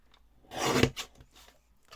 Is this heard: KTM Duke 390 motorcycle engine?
no